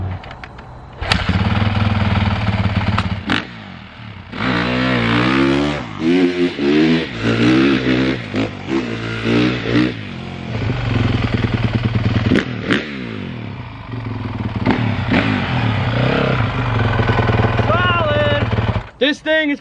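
A 2014 Honda motorcycle that had sat for years revs loudly and close by while being ridden, its engine note repeatedly climbing and falling in pitch with brief throttle-offs between pulls.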